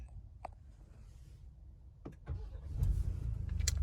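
A 2021 Ford Expedition Max King Ranch is started by push button: a few faint clicks, then the engine cranks and settles into a steady low idle that rises in loudness toward the end.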